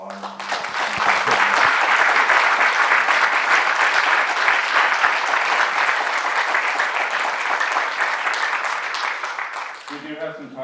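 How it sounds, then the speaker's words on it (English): An audience applauds after an arts lecture, a loud, sustained wave of clapping that rises quickly, holds for several seconds and fades as a voice begins speaking. "If we could give a quick round of applause."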